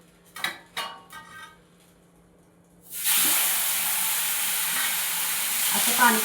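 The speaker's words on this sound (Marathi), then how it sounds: "आता आपण हे थालीपीठ त्यावर टाकूया।" A cucumber thalipeeth placed on a hot tawa starts an abrupt, loud, steady sizzle that carries on to the end, following a few light clinks of utensils in a quiet kitchen.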